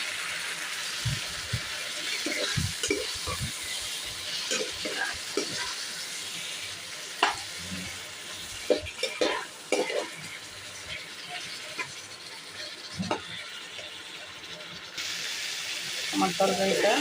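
Rohu fish curry with onions and spices stir-fried in a pan, a steady sizzle with intermittent scraping and stirring clatter, close up, under occasional speech.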